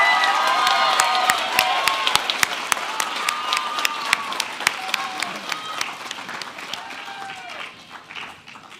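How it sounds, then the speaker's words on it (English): A school audience at a special arts and culture awards assembly claps for several seconds, the applause steady and full at first and then thinning out, with a few cheers mixed in. "Let's give them a round of applause."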